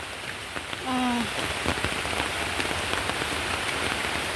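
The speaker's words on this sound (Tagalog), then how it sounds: "Ang lakas ng ulan, guys." Heavy rain pours steadily at an outdoor botanical orchid garden in Singapore, a dense, loud hiss of drops on surfaces that goes on throughout, with a brief exclamation from a voice near the start.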